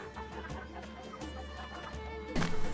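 Chickens cluck around a coop in the medieval game Life is Feudal, soft repeated clucks over a low steady hum, with a louder burst of clucking near the end.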